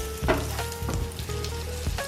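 A sweet potato cake fries in a pan, crackling and sizzling steadily up close, with a few louder pops and scrapes of stirring or movement and no voices.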